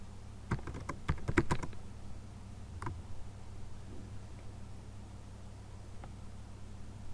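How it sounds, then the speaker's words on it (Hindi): Computer keyboard keys typing a Google search, a quick burst of clattering keystrokes near the start, then a few isolated taps spaced out over a steady background hiss. "गूगल के ऊपर जाना है और जहाँ आप लिखेंगे लेट्स सपोज इमरान खान"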